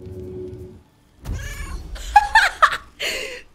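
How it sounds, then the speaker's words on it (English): A cat character meows in Baldur's Gate 3, giving a few short, bright meows after a low hum of game ambience, fairly close and clear, with little talk over them. "I'd like to meow, please."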